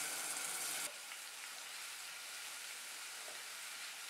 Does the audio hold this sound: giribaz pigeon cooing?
no